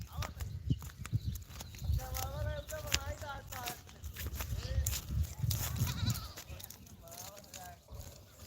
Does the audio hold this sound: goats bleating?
yes